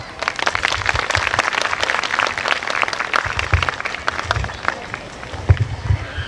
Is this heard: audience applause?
yes